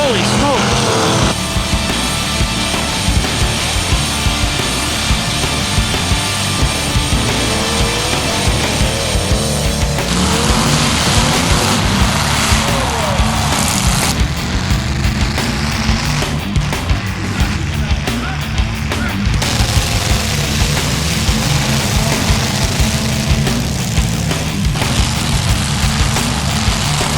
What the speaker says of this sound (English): A big cloud of dust, but wow, these cars are running good.